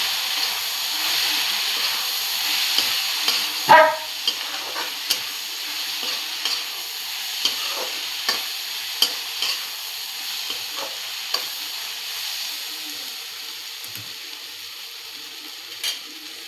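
Okra sautéing with garam masala, kitchen king and sabzi masala gives a soft, steady hiss of oil, punctuated by sharp spatula taps and scrapes against the pan at irregular intervals.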